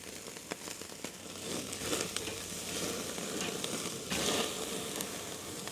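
Ribeye cap steak searing in a hot pan, a steady close sizzle and crackle running throughout with a few sharper pops and a brief swell near the end.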